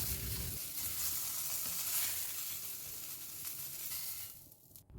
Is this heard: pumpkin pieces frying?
yes